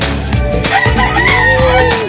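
A rooster crows loudly and close by, a long drawn-out call with other fowl clucking and calling around it.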